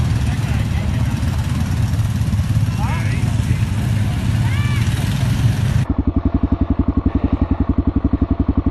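Kawasaki KLR650 dual sport motorcycle on dual sport tires, a steady engine drone under wind for most of the clip, then a sharp shift to a close, rapid, evenly pulsing single-cylinder chug at the end.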